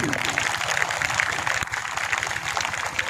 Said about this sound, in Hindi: एक तालियां तो बजाई उसी लिए